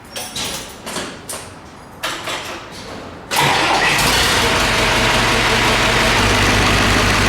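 A diesel tractor engine is cranked and then catches at about three seconds, jumping to a loud, steady idle that runs to the end. Loose tools rattle over the engine, and no one speaks.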